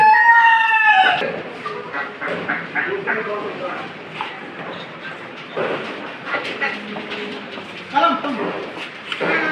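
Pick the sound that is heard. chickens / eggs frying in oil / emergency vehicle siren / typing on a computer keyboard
chickens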